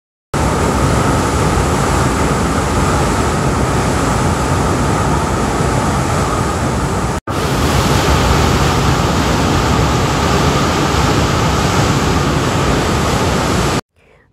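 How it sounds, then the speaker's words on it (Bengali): Rushing water from a waterfall in Switzerland, a loud, steady broadband roar that fills the whole span, cut by one very brief dropout midway and ending abruptly. "আর এখানকার জলের স্রোত দাঁড়ান আপনাদেরকে শোনাচ্ছি"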